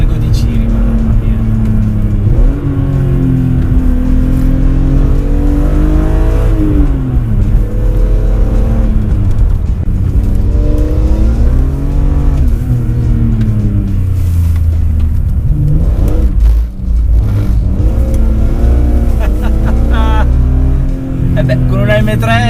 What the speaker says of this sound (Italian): Sentite come strilla più salgo di giri